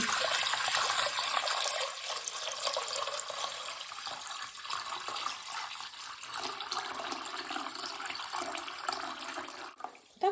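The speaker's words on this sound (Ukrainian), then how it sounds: "Наливаємо воду, кастрюльку." Water pours steadily from a tap into a 6-litre pot, a continuous splashing rush that stays fairly even for about ten seconds before stopping abruptly.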